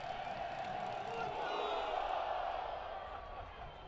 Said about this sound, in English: This crowd really getting into it now